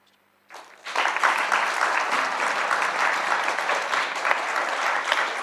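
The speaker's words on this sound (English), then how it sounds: "Keep clapping, keep clapping." Audience applause at the close of a mental health forum panel, starting after a short pause and building into steady, dense clapping from a sizable crowd that carries on without fading.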